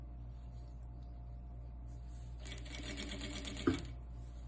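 A sewing machine stitches elastic onto a cloth diaper. A low motor hum runs under a short, faint run of stitching, then a sharp click ends it.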